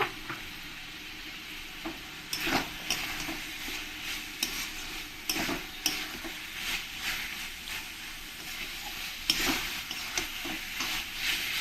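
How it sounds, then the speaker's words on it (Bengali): Fried potatoes stir-fried with spices and a little turmeric in a pan over medium flame, repeated close scraping strokes of a spatula over a constant frying sizzle. "আলুগুলো একটু মশলার সঙ্গে আমি ভালো করে কষিয়ে নেব"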